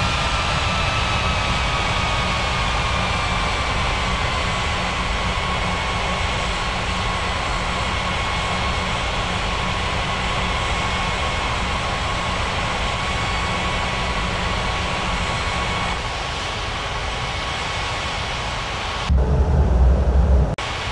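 Airliner jet engines hum steadily while taxiing in the air traffic control game Unmatched Air Traffic Control, a loud, even whine with a low rumble that changes abruptly near the end.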